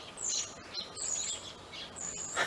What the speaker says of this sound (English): Wow, listen to the birds.